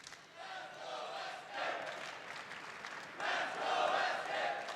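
Esports arena crowd at a Counter-Strike quarterfinal in Boston cheering for SK Gaming, with Brazilian fans prominent, a broad roaring swell of many voices rising and falling in waves, strongest near the end.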